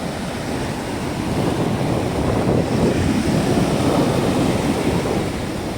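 Sea waves wash steadily at a seaside harbour in Israel on a breezy evening, with broad constant surf noise and wind buffeting the microphone throughout, no voices.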